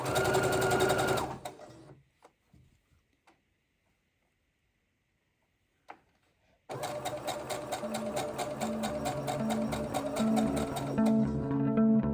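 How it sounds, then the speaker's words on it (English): A sewing machine stitches a dress hem: a short burst at the start, a quiet pause with faint handling, then a loud, steady run of rapid needle strokes for about six seconds. "I'm just going to turn this in now so I have a little hem."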